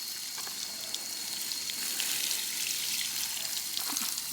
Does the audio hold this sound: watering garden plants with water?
yes